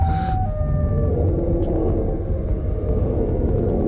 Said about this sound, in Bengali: আর বাইরে আমাদের স্ক্রিপি সাইরেন হেডের সাউন্ডও শুনতে পাচ্ছি।